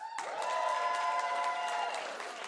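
Applause from a live podcast audience in Boise, a steady crowd clap lasting about two seconds over a held musical chord, then tapering slightly.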